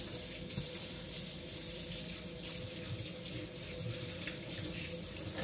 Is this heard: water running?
yes